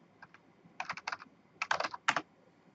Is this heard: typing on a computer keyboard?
yes